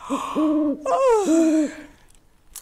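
A voice imitates an owl's hoot in a series of gliding, tonal hoo calls, close and clear, followed by a quieter breathy tail as part of a children's counting rhyme about a yawning owl in a tree.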